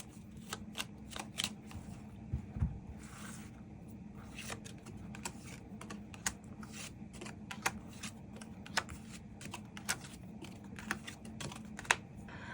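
Tarot cards are shuffled and drawn up close in a quiet room, a steady run of crisp flicks and snaps with sharper clicks as cards are pulled.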